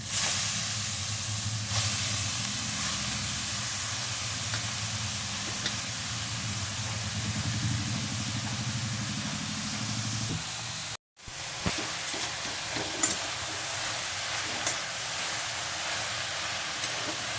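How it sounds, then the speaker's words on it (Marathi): Grated carrot sizzles in ghee while being stir-fried for carrot halwa, a steady close hiss that runs for about eleven seconds before a brief cut, then continues more faintly with small clatters. "त्याच्यातच आपल्याला हा गाजरचा जो किस आहे तो परतून घ्यायचा आहे।"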